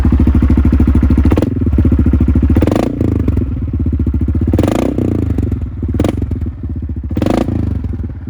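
A 2020 Yamaha Kodiak 450 ATV engine idles roughly, then revs up loudly in several bursts, close by, with clattering and a few thumps between revs.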